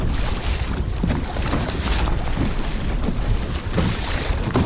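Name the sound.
rough water around a fishing kayak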